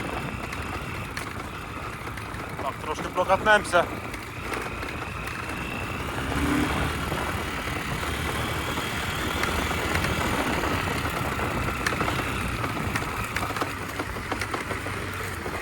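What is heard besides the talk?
MTZ tractor engine running while driving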